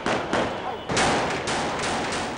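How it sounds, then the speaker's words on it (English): Heavy gunfire crackles along a Benghazi street during protests, captured in amateur footage as dense, harsh bursts of shots that run together continuously, loud and distorted, with the sound of an outdoor space. "heavy gunfire can be heard as protesters take shelter on both sides of a street."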